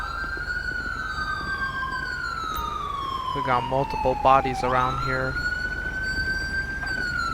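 An ambulance siren in the video game GTA V with the LSPDFR mod wails steadily in long rising and falling tones, while a voice speaks over it briefly midway.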